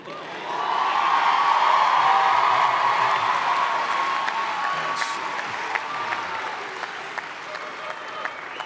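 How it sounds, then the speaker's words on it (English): A university undergraduate commencement audience bursts into applause with cheers and whoops, swelling quickly and holding strong, then slowly tapering over several seconds. "I honestly live for that cheap applause"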